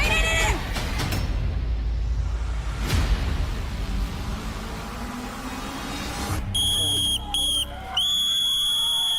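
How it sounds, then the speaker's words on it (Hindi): A referee blows the final whistle at a ring fight event: shrill, sustained whistle blasts in a few separate bursts near the end, following loud, dense crowd noise and shouting. "लेकिन यहाँ रेफरी ने मार दिए वो आखिरी सीटी"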